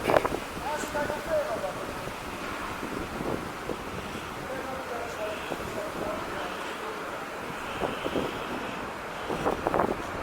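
Gusty wind buffets the microphone outdoors on a city street corner on Deansgate in Manchester, a steady rushing roar with occasional stronger blasts and faint voices beneath it.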